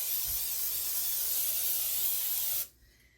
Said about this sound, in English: I'll spray this really good.